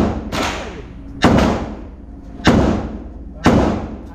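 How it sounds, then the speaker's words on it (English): Three loud, sharp gunshots fired at an indoor shooting range at LAX, with an earlier shot at the start, each a hard crack followed by a short ringing decay, spaced about a second apart. "yeah. I shot the lady."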